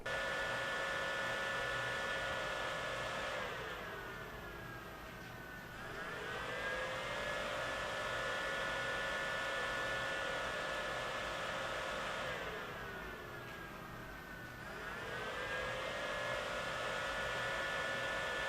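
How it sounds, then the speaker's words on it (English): Steady whirring hum of AAXA M7 projector cooling fans on standard mode, with a high tonal whine that periodically dips in pitch and volume, then rises again, running continuously with no talking. "this is what the fans sound like"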